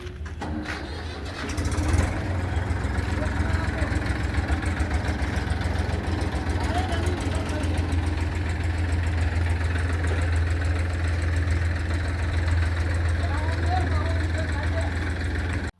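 An old second-hand Massey tractor engine idles steadily throughout, a loud low continuous rumble with a brief rise near the start.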